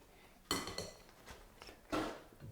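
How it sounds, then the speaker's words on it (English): Drained, rinsed canned chickpeas tipped into a pan with spices in a home kitchen, giving two sharp clattering spills with a pan clink between them, close and fairly loud, no talking. "we're going to add our drained and rinsed chickpeas"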